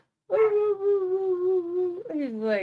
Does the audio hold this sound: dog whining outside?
yes